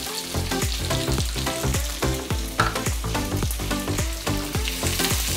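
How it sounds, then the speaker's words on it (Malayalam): Ginger, curry leaves and raisins sautéing in a pan for rava vegetable upma, with a constant close sizzle under a regular series of sharp metallic clinks as a utensil stirs rhythmically. "നന്നായിട്ട് വഴറ്റിയെടുക്കും."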